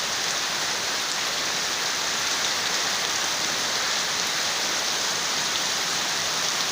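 Steady rain pours down without a break, a dense, even hiss of drops on surfaces close by with no voices.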